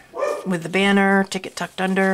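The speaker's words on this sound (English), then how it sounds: "you can hear my dog barking" A dog barks several times in quick bursts close by while someone keeps talking over it.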